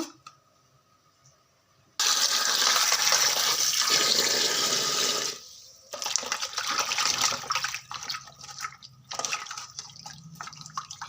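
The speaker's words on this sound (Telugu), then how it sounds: "ఇప్పుడు బాగా కడుక్కోవాలి వాటర్లో" Fish heads are rinsed in water: a loud rush of running water lasts a few seconds, then gives way to intermittent close splashing, sloshing and dripping.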